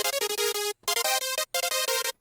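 A distorted, EQ'd and compressed hardstyle bass preset plays a dry, choppy pattern of loud buzzy synth notes, three short phrases separated by brief gaps, with no voices.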